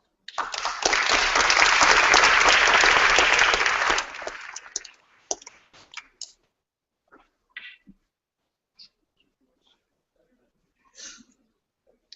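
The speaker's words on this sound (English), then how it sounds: "I think they deserve a round of applause" Applause from the audience at a UN commission session for a panel, a full round of clapping for about four seconds that fades into scattered claps and quiet room sounds.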